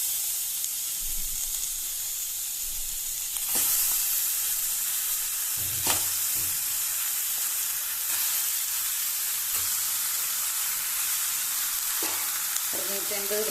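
About 650 grams of chicken sizzling and frying in a hot pan for a crispy chicken fry, a steady, loud, close hiss with a few soft stirring clinks and no talk.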